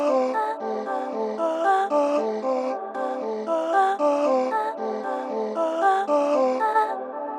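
Chopped vocal fragments bounce in quick rhythmic bursts through a ping-pong stereo delay with reverb on an indie pop track, forming a dense, steady, loud pattern with no talking.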